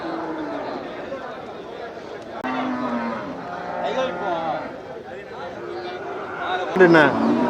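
Native cattle at the Melapalayam cattle market give a low, drawn-out moo near the end, rising over a busy crowd's steady chatter and shouting that runs throughout.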